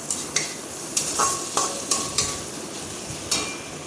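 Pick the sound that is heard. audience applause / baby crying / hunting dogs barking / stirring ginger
stirring ginger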